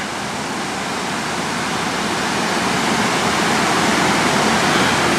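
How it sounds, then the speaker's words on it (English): Staubbach Falls in the Lauterbrunnen valley, a steady, dense roar of falling water that stays loud and unbroken, with no voices over it. "Staubbach Falls is there to the right, probably in that defile there."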